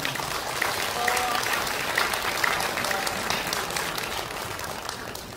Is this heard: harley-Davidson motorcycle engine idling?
no